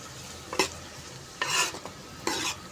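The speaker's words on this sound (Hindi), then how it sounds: "अब इसको अच्छे तरीके से हमने प्याज को फ्राई कर लेना है।" Onions fry in hot ghee while a spoon stirs them in the pan, three scraping strokes over a soft steady sizzle, close and clear with no talking.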